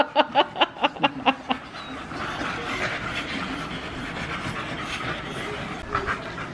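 An American Bully puppy pants in a quick run of about seven close, rhythmic breaths, after which the panting fades into a soft, noisy background.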